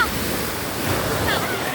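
Strong ocean surf at a beach, a close, continuous rushing wash of waves mixed with wind buffeting the microphone.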